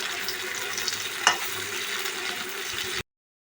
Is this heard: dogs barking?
no